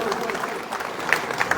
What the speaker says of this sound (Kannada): ಜೋರಾದ ಚಪ್ಪಾಳೆ ಧನ್ಯವಾದ ಸಲ್ಲಿಸ್ತಾರೆ ಅವ್ರಿಗೆ